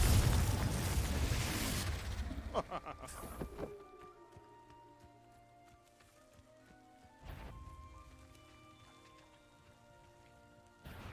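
Confringo spell blasts in the Hogwarts Legacy video game: a loud crackling burst at the start, then sharp impacts that drop into quieter ringing magical tones, with another burst hitting later on.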